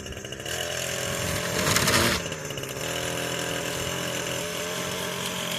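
An Echo SRM 225 string trimmer runs at low RPM during lawn cutting, a steady two-stroke buzz with a brief louder surge in the middle before settling back to an even idle-like drone.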